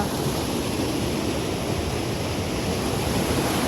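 Water rushes and roars steadily at the Galiveedu waterfalls, a dense, constant wash of sound heard up close with no pauses or talking.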